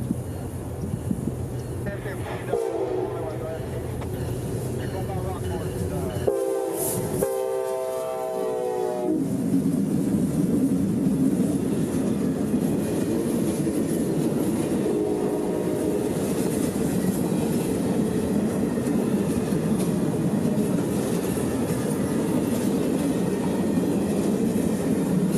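A CSX office car special passenger train approaches and passes near Tampa, its horn sounding in several blasts early on, followed by a long, loud, steady rumble of wheels and cars rolling by.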